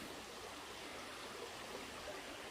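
A river flows beneath a trail bridge on the Appalachian Trail, a faint, steady broadband rush of water with no breaks or voices.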